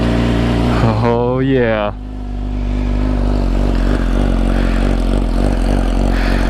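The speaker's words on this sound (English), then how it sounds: "let's go ahead and do a cold start." A Yamaha R6 sport motorcycle with a flashed ECU cranks and fires up from a cold start, then settles into a loud, steady, rumbling idle close by, with a brief spoken exclamation over it.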